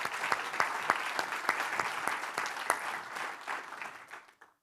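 An audience at an annual meeting and awards event applauds for about four seconds, a dense patter of clapping hands that gradually thins and fades out.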